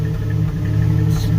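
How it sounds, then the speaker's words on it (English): A 1988 Jeep Wrangler YJ with a 4.2L engine idles low near 500 RPM with a lean, over-advanced condition, a steady close rumble with a slightly uneven exhaust pulse throughout. "you can hear the exhaust, all that pop"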